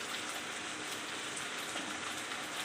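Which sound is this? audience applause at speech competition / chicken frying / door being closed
chicken frying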